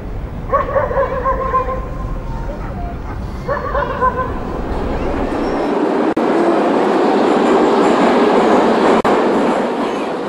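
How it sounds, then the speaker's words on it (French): A crowded metro train in Minsk rumbles and roars steadily, growing louder as it runs, after a dog barks a few times near the start. "c'est un métro bondé"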